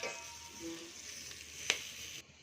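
Spices with turmeric powder fry quietly in a pan for a tomato bath masala, giving a faint, steady sizzle with one small crackle before it drops away at the end. No one speaks.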